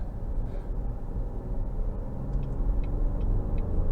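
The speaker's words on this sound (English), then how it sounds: "I'm just going to take a couple of corners before I put it in the Sport" A 2023 Cadillac XT6 SUV cornering on a drive, steady low road rumble and engine drone heard from inside the cabin, with faint tyre and wind noise and no talking.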